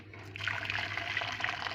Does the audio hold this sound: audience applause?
no